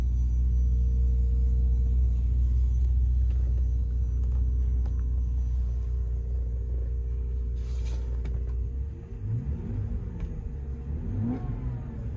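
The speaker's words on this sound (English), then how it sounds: "Engine sounds good and healthy" A 2004 Bentley Continental GT engine runs at a deep, steady idle, a strong low rumble that eases slightly near the end and picks up a faint revving rise.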